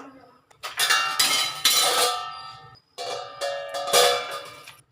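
A metal lid set over a pan holding a burger frying in butter on a gas stove, giving loud, close clanks and ringing scrapes in two bursts with a brief silent gap between.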